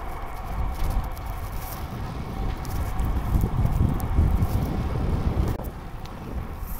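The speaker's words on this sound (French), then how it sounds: "Et le vent est défavorable. Vent de face." A strong headwind buffets the microphone while cycling down long straight roads through vineyards, a loud, gusting roar of wind noise that swells toward the middle and carries on without speech.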